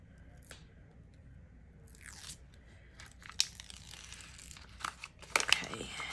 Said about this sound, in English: So I'm just gonna peel this back.